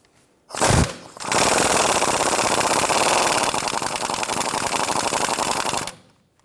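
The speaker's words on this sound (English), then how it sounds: "Using a 15mm socket, we're going to go ahead and loosen our adjuster sleeve nut here." A tool with a 15mm socket rattles loudly and continuously for about five seconds, close up, as it loosens a rusty tie rod adjuster sleeve nut on the front end of a 1993-1997 Ford Ranger.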